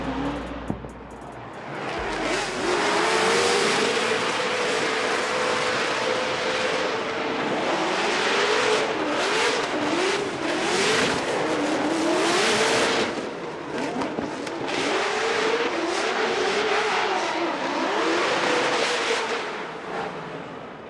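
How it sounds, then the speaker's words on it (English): A Nissan S15 drift car with a supercharged LS engine screams past at a Formula Drift competition in Long Beach, the engine wailing and rising and falling while tires roar in a broad, sustained hiss, loud and close throughout. "Odie Bakshis, that supercharged LS under the hood of the S15"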